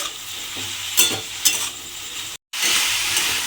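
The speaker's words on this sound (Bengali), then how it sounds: "নুনটা দিয়ে এবারে খুব ভালোভাবে মিশিয়ে নিতে হবে" Potato and pointed gourd curry is stirred with salt in a pan over a soft sizzle, with two sharp utensil clinks against the pan and a brief gap of silence near the end.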